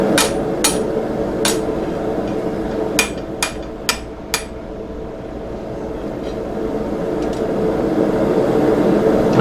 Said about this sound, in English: I'm driving that material into the anvil on that edge